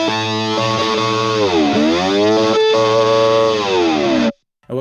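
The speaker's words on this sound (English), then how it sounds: "you could take the slide and just cover what the ring finger is doing right here and get a cool slide sound" Distorted electric guitar playing sustained slide licks, notes gliding down and back up in pitch with heavy effects, loud and close, ending abruptly.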